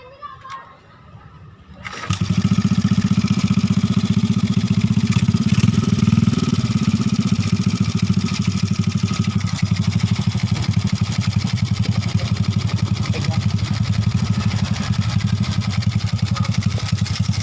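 A Honda Astrea Grand motorcycle engine starts after about two seconds of quiet and settles into a steady, close idle with a rapid, even putter. A voice is heard faintly in the background.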